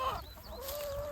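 Chickens on a farm cluck and murmur close by over bread, a short burst of soft, drawn-out clucks with a high tonal note.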